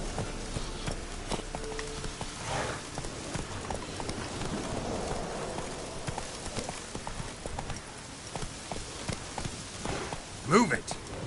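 Roach, a horse in The Witcher 3, gallops with steady repeated hoofbeats, close and rhythmic, under intermittent talk and other game sounds, with a brief louder swell near the end.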